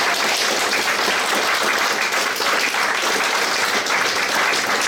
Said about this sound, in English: I'd like to give a big round of applause to our 4 candidates who've stood up to be candidates